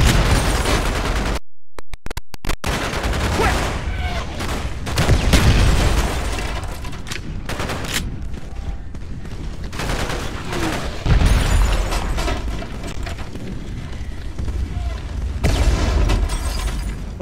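Frag grenade blast amid a Call of Duty Black Ops firefight, a deep boom rising out of dense, continuous gunfire and explosions, loud and close, with battle chatter in the mix.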